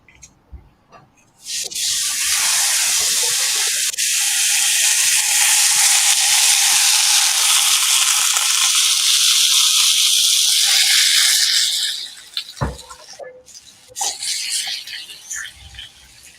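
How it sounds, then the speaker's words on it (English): A steak sears on a hot surface, bursting into a loud, broad hiss that holds steady for about ten seconds before fading into crackles, with a few thumps and brief sizzles after. "I'm putting up sear on this steak real quick."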